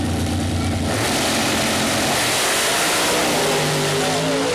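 Pro modified nitrous drag racing cars launch at Mooresville Dragway, engines roaring loud and harsh in a continuous blast, with rising whining tones as they pull away down the strip.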